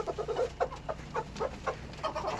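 Chickens on a farm giving a string of short, soft clucks in an uneven rhythm, moderately close and fairly quiet, with no voices.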